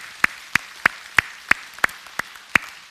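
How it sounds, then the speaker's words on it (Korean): A church congregation claps in unison, giving eight sharp, evenly spaced claps at a brisk steady pace in a quiet room. "우리 하나님께 영광의 박수 올리겠습니다."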